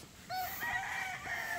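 A rooster and chickens at a farm where stags are kept, with harmonic crowing and clucking calls rising over a steady background, fairly close and loud with no talk.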